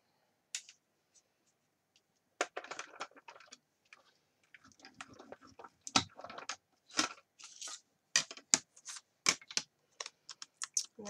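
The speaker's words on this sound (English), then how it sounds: "I'll just run that through the die cut machine again" A die cut machine pressing through paper gives a close, dry series of irregular clicks and ticks, sparse at first and then denser, with no talking.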